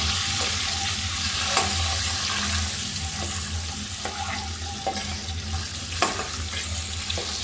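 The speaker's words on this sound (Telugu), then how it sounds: "స్లోగా కలుపుకోండి" Scored eggs frying in a pan for an egg and potato masala gravy, with a steady broad sizzle under slow stirring and a few sharp scrapes and taps of a spoon against the pan.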